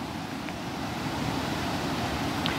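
A fast river rushes over a rocky riverbed, a steady broadband roar of churning water with no breaks, filling the whole stretch at a constant level.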